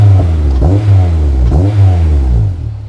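A Honda S2000 fitted with a J's Racing aftermarket muffler, exhaust manifold and air intake revs hard several times in quick succession, deep and loud with a throaty exhaust note, close up, then settles toward idle.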